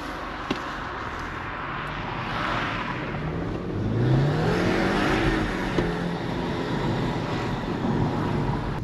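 Remapped BMW 120i accelerating on the road, its engine note rising steadily from a low drone into a stronger rev, heard from inside the car with steady road and wind noise throughout and no talking.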